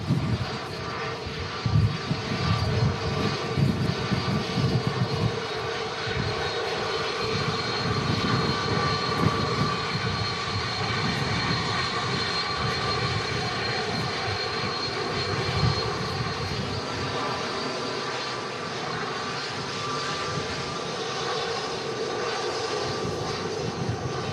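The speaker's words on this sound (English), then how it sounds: "Turkish Airlines slowing down quick enough to get off the rapid exit taxiway ahead of us" A Turkish Airlines jet airliner decelerates on a runway at Manchester Airport on a day of strong crosswinds, its engines giving a steady broadband roar heard from a distance, continuous and without speech.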